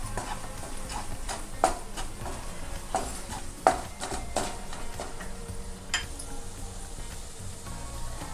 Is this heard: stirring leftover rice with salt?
yes